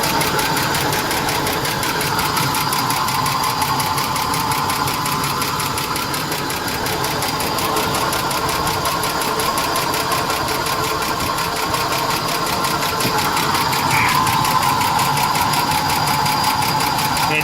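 A 1993 Ford XG van engine idles with a fast, steady top-end tappet ticking, a continuous metallic clatter over the running motor, close and constant.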